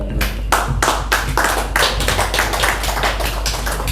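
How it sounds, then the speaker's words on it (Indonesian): Applause from an audience at an evening discussion event on the 2024 election in Surabaya, a dense burst of clapping hands close and loud, with rhythmic surges throughout and no speech over it. "sekali lagi beri tepuk tangan yang meriah buat kedua narasumber kita pada malam hari ini"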